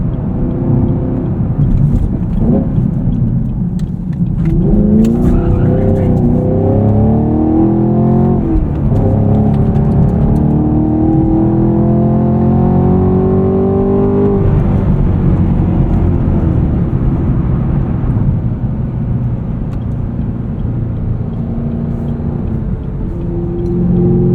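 A 2023 Chevrolet Camaro SS 1LE V8 roars loudly and continuously, climbing in pitch through several gears as it accelerates hard, with a deep rumbling exhaust note.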